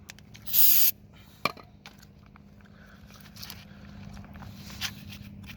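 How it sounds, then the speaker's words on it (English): A single loud hiss of aerosol brake cleaner sprayed on the front brakes of a 2007-2014 Chevy or GMC 1500 truck, under a second, followed by a sharp click and quieter rustling against steady low background hum. "I'm gonna spray again."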